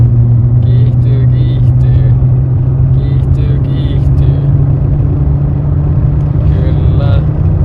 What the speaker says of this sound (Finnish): Kaasu pohjassa. Kiihtyy.